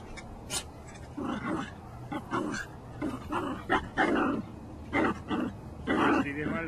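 Dog barking in short repeated bursts, about eight deep barks spaced irregularly, fairly close, with people talking quietly around it.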